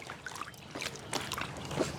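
Water trickles and laps past the cup holder of a floating 8-foot water hammock, a soft, faint dribbling with small splashes, close by and fairly steady.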